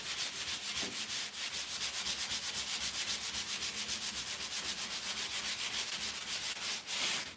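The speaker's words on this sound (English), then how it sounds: "I'm just trying to take that top coat of the gold wax that we put on yesterday." Steady rhythmic rubbing of 220-grit sandpaper over a painted piece, taking off a gold wax top coat, close and continuous with even back-and-forth strokes throughout and no voices.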